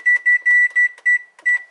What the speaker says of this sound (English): So, now let's set the timer for 10 minutes.